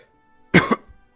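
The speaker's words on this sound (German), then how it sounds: "Jetzt habe ich doch gehustet" One short, close cough in two quick bursts, loud against near silence.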